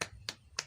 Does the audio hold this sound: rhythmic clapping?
yes